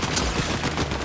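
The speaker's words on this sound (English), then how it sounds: "I'm going to the gunshots that I hear." Dense bursts of rapid gunfire in Fortnite crackle nonstop through a short stretch, loud and close, with no voices.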